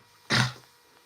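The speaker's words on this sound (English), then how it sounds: "Oh, I feel like I'm going to sneeze again." One abrupt, breathy sneeze bursts out close to the microphone, loud and brief, then fades into quiet room tone.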